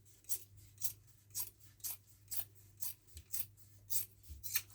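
Scissors snip through old newspaper label material in a slow, regular series of about ten close, crisp cuts, with a faint low hum underneath.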